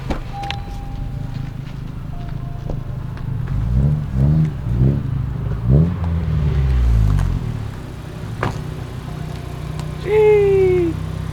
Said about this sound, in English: Hey, those gears sound tight. That's my first time ever hearing that. They whine a little bit.